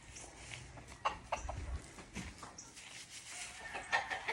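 Chickens cluck and murmur nearby in short scattered bursts, with a few soft thuds and rustles among them.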